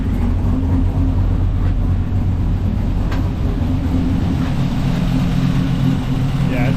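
A 1983 Pontiac Parisienne engine idles as it warms up after its first start of the year, a steady, loud low rumble close by with someone talking over it.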